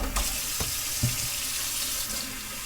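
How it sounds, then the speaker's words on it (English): Steady rush of tap water pouring into a cooking pot, a continuous broadband hiss with a few soft knocks and clunks, close and alone with no talking. "we're just gonna add a little bit of water to our pot"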